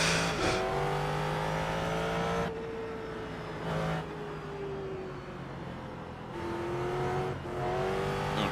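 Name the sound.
Ford GT3 race car drifting through corners at Sonoma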